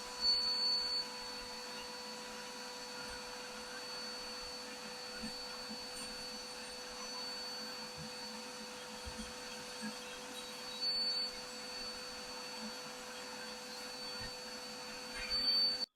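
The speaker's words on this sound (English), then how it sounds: "So I'm going to turn on the vacuum" A vacuum cleaner with a brush attachment runs with a steady whining drone, fairly close, cleaning a dryer vent; a few short beeps break in at the start and near the end.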